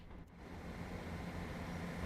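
A Scotrail Class 158 diesel unit in Train Sim World rumbles along the rails, heard from inside with a window open, a steady low drone with wind noise and no voices.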